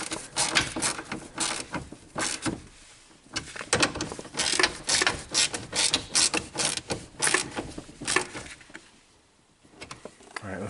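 A hand ratchet tightens bolts on a Toyota Sienna sliding door, giving bursts of quick, close clicking strokes in an irregular rhythm, with short pauses between runs.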